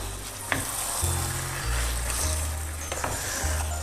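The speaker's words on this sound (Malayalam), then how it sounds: "നന്നായിട്ട് ഇളക്കാം." Chicken curry with curry leaves stirred in a pan, a steady close sizzle with soft scraping strokes and a couple of light knocks against the pan.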